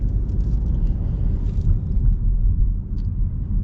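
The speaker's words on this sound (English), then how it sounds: "It's kind of like a buzzy little engine." A 2025 Buick Encore Avenir's small engine buzzes along steadily while driving, a low continuous rumble with road noise, heard from inside the cabin.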